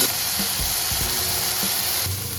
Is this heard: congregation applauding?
no